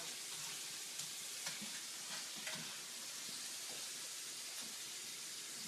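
Shrimp frying in a pan for General Tso's shrimp, a steady, fairly quiet sizzle and hiss with occasional soft clicks and pops as the pieces are turned.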